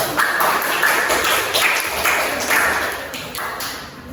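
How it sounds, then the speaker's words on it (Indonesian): Classroom students clapping for a group's presentation, a brief round of dense, moderately loud hand claps from a small group that continues steadily for a few seconds before tapering slightly. "Tepuk tangan untuk kelompok 1."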